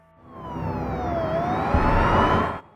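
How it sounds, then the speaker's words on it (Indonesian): A police ambulance siren wails close by, its pitch sweeping down and back up in one smooth cycle for a couple of seconds before cutting off. "Akhirnya Jack menghubungi ambulan polisi agar segera menjemput mereka."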